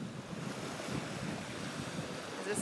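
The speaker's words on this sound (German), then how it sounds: "Hoffen, das ist nicht zu windig für euch." Wind and surf at a seaside in the Maldives make a steady, faint roar of waves with wind buffeting the microphone, no voices.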